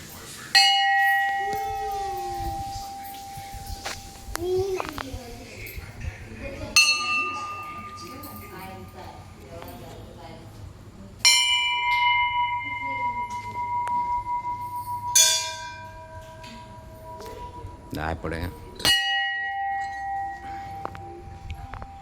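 A metal temple bell is struck several times at irregular intervals, each clang ringing out and slowly decaying, with people talking nearby between strikes.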